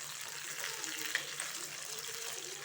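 Mild, non-spicy chillies fry in a pan with a soft, steady sizzling hiss at low level, one brief sharper pop near the middle and no talking.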